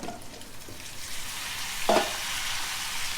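Pork and squash sizzle and hiss in a hot pan, with a brief scraping stir partway through, close and steady.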